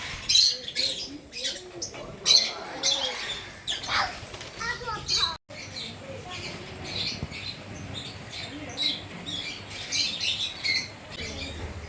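Small birds chirp and squawk around a park with fish and other animals, their calls overlapping in bursts close by under busy background noise and voices.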